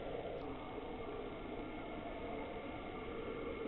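A Chinese diesel heater is bench-tested before being fitted in a boat, giving off a steady, even whirring hum with no rhythm changes and no talking, fairly quiet throughout.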